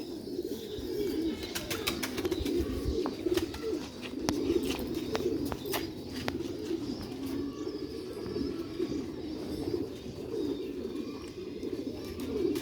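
Caged pigeons coo steadily and repeatedly at close range, a soft, continuous throaty cooing with no talk.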